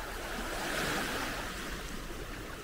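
Ocean surf washes continuously onto an Andalusian beach near Doñana, a steady, moderately loud rush of breaking water mixed with some wind, no voices.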